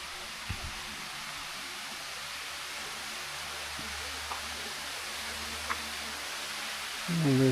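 The Bua Tong sticky waterfall near Chiang Mai, Thailand, gives off a soft, even rush of falling water heard from a distance, faint and unbroken, with a couple of small knocks and a louder shuffle at the very end.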